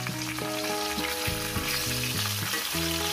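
A rui fish fries in hot oil after being flipped, giving a steady, close sizzle and crackle that runs throughout beneath music.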